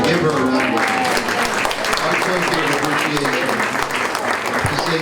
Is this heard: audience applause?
yes